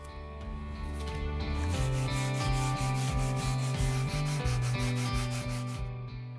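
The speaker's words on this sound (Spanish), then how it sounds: "voy a generar mordiente dándole una pequeña lijada a mano, no necesito lijadora eléctrica" Steady back-and-forth scraping of sandpaper rubbed by hand over an old wooden rocking horse or bookcase before painting, a loud, close, rhythmic rasp of about a dozen even strokes with no voices.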